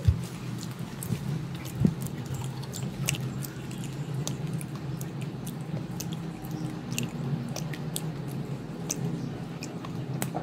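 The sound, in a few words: chewing crunchy kemplang fish crackers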